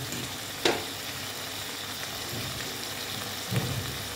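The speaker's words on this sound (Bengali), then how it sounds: "দেখো ভালো মতন এটাকে কষিয়ে নিচ্ছি" Potatoes sautéing in a pan for Bengali aloo dum give a steady, fairly quiet sizzle, with two brief clinks or scrapes of stirring at separate moments.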